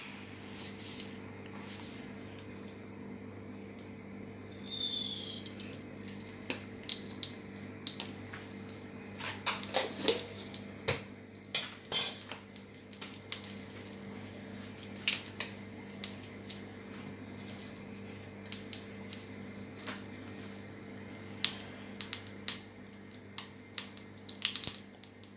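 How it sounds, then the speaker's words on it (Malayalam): Mustard seeds spluttering in hot coconut oil for a Kerala moru curry, scattered sharp pops and crackles, some in quick bursts, faint and close over a low steady hum. "കടുക് പൊട്ടിക്കഴിഞ്ഞു."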